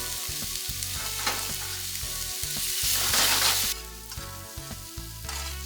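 Onions and red chili fry in a pan, a bright steady sizzle with occasional stirring scrapes and clinks, swelling louder midway before settling back, close and without speech.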